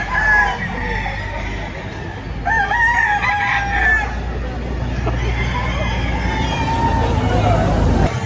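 A rooster crows twice in long, rising calls amid loud outdoor crowd chatter and background noise at a chicken market in Lipa, Batangas.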